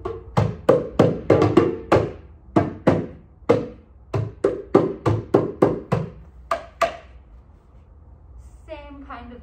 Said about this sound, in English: And this is called a dunbek. It's a Middle Eastern drum.